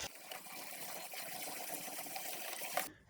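Old, blackened fuel from a Volvo 740 fuel system gushes and gurgles steadily into a jug, a continuous liquid pour heard close up and fairly quiet, ending with a brief splash as the flow stops.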